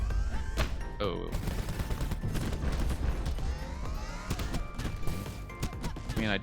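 Video game explosions and impact bursts from the brawler Super Crush KO land in quick, sharp cracks over busy game sound effects and music, close and fairly loud.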